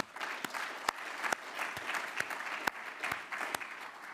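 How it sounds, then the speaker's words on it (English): Conference audience applauding, a warm steady patter of many hands with a few sharp louder claps standing out, filling the hall without voices. "I think that also deserves a round of applause"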